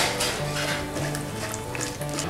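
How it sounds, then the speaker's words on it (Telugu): Biryani spices frying in a pan for paneer biryani, a steady close sizzle with light stirring scrapes and faint utensil clinks, no talking, over a low humming background. "ఇప్పుడు ఇదే ప్యాన్లో బిర్యానీ స్పైసెస్ మొత్తం అన్నీ కూడా వేసి ఒకసారి ఫ్రై చేసుకోవాలి"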